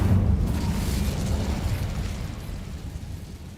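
Incendio fire spell cast in Hogwarts Legacy, a loud burst of roaring, crackling flame that starts strongly and slowly fades while staying dense and close.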